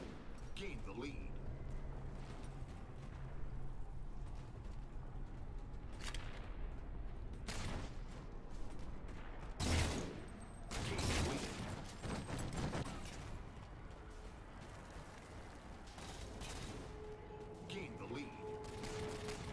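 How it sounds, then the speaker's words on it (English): Gunfire in a Halo 3 multiplayer slayer match, dense bursts of shots and booming impacts layered over continuous game noise, with a voice talking throughout. "Oh no, someone's shooting at me from over here."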